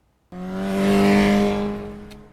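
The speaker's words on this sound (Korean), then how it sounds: "그럼 투스카니가 어떤 성능을 보여줄지 주행을 통해 알아보겠습니다." A 2002 Hyundai Tuscani 2.0 GTS with a five-speed manual starts and pulls away, its engine droning loudly as revs climb then ease off, close up and with no talking.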